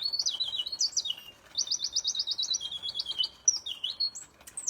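A mechanical singing bird automaton from fine watchmaking, producing bright, high, warbling chirps in quick repeated trills, clear and close with short pauses between phrases.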